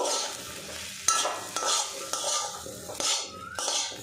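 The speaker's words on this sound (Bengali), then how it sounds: "এবারে এখানে দিয়ে দেবো ঢেঁড়সটা ভালো করে ভেজে নেব" Okra frying in hot oil, stirred with a utensil so that a steady sizzle runs throughout, with several sharp clacks of the spoon against the pan, close up and without speech.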